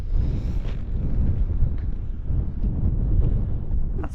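Strong wind buffeting the microphone outdoors at dawn, a continuous loud low rumble with gusty swells throughout and no voices.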